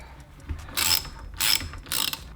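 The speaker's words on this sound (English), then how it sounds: "we're going to remove the retaining nut off of the pump" A ratchet with an 18 mm deep socket loosens a fuel pump retaining nut on a part held in a vise, giving three quick bursts of clicking, close and distinct against a quiet background.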